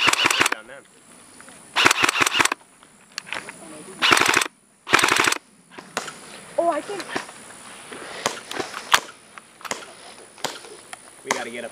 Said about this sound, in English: I'll take a few shots.